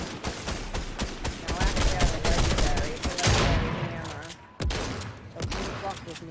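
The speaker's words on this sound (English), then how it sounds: "somebody's already shooting at me" Video game gunfire rattles in dense rapid bursts and scattered shots throughout a chaotic firefight, with voices talking over the shooting.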